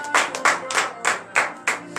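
Worshippers at a morning prayer service in Comè, Benin clap in loud, distinct bursts, about six clusters of quick claps separated by short gaps, with no voices over them.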